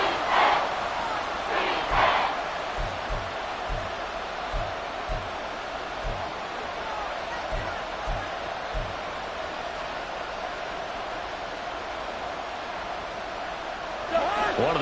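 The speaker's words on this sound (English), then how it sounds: "the crowd getting into it as we come up on a big third down" A football stadium crowd roars and cheers before a big third down, a dense, sustained wall of noise with swells near the start and end, plus a few low thumps beneath.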